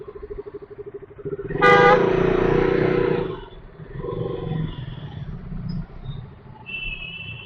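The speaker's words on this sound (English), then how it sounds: "It's always that bumper to bumper traffic." A car horn blares for over a second amid city traffic heard from a KTM RC 200 motorcycle, over a running engine rumble, with fainter distant toots afterward.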